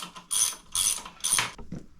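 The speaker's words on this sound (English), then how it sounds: "this one requires an 8mm Allen key for the removal of the pedal bolts" An 8mm Allen key loosens bicycle pedal bolts, giving three quick ratcheting metallic clicks, close and crisp, with brief gaps between turns.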